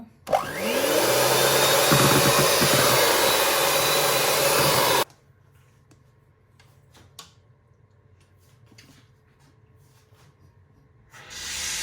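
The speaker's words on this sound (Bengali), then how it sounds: "যত সময় পর্যন্ত এটা স্টিফ হয়েছে না তত সময় পর্যন্ত আমি এটারে পিট করে নেব" An electric beater runs loud and steady for about five seconds whipping cream until stiff for cake frosting, then cuts off, leaving faint clinks and quiet handling noises before the motor briefly starts again.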